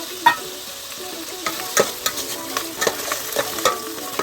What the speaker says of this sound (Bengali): রসুনটা আমার দিয়েছি, ভাজা ভাজা হয়ে যাচ্ছে রসুনটা।